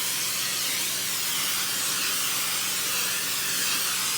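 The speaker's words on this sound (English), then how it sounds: "We're going to give it a spray of vegetable oil." Steady close hiss of vegetable oil sprayed onto seasoned country-style pork ribs, a continuous airy spray without pauses and no talking.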